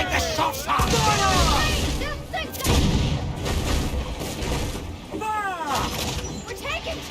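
Cannon fire in an Assassin's Creed Black Flag ship battle, heavy booms and cracking bursts in uneven volleys, close and loud, with shouting crew voices over the gunfire.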